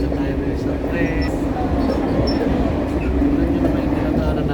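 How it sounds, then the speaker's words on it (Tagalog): Riding a train in Paris near the airport, with a constant rumbling rail roar, faint clickety-clack and a few high squeals, and a voice talking over it. "dito tayo guys sa tren"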